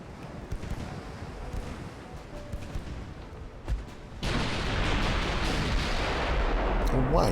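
Warship guns firing armor-piercing shells in the naval video game Ultimate Admiral: Dreadnoughts, a few distant booms under a low rumble, then a sudden loud, sustained roar of heavy gunfire to the end; a voice is briefly heard.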